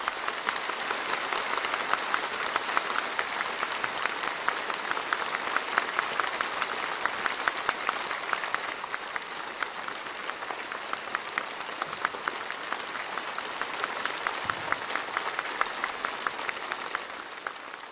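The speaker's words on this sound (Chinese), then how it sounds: "会场上再次响起热烈的掌声" Warm, sustained applause from a large audience filling a congress hall at a national people's congress session, dense steady clapping throughout.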